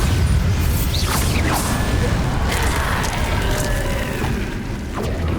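A Bombarda spell explodes in Hogwarts Legacy, a loud booming blast with crashing debris and rumbling game effects sustained throughout.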